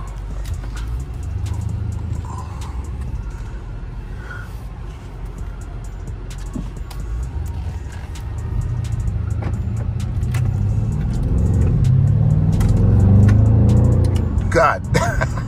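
A BMW M550 engine rumbles steadily, then builds into a louder, deeper surge as it accelerates near the end, heard from inside the cabin.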